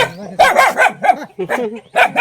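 A puppy yaps in short, repeated high barks close by, the little bursts coming in quick succession and often overlapping.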